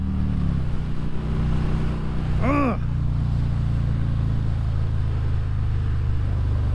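A Harley-Davidson Road King fitted with a Vance and Hines Torquer 450 exhaust accelerates on the road, a deep, loud, steady engine rumble with a quick rising rev partway through, under constant wind and road noise.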